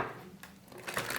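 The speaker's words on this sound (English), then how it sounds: "So let's shuffle." A handwritten card deck is shuffled at close range, with soft papery riffles and brief bursts of card friction, quiet at first and then busier near the end.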